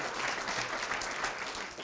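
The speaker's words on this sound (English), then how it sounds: "how about some applause for that?" Applause at a character recognition awards ceremony, steady even clapping from a seated audience that fades slightly near the end.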